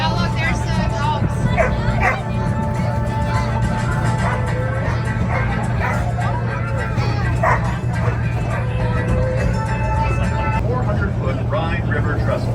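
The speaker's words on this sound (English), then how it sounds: "look, there's the dogs" Several dogs bark and yip at a Busch Gardens theme park during a Mardi Gras event, heard over steady crowd babble and a low constant hum, with barks recurring irregularly throughout.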